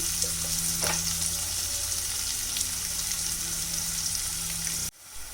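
Onions fry until brown in a kadai for a mushroom fry, giving a steady, close sizzle with soft stirring scrapes. The sound cuts off abruptly near the end, and no one speaks.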